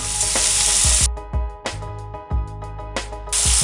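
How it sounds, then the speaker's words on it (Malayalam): Chopped onion, shallots and garlic sizzling in a pan for a mung bean thoran stir-fry, bursts of loud hissing broken by a few sharp clanks and brief quieter gaps, close and with no talk. "ഇതിലേക്ക് ഞാൻ ഒരു സവോള അരിഞ്ഞതും 4 ചുവന്നുള്ളി ചെറുതായിട്ട് അരിഞ്ഞതും 2 വെളുത്തുള്ളി ചെറുതായിട്ട് അരിഞ്ഞതും ഇട്ട് കൊടുത്തിട്ടുണ്ട്."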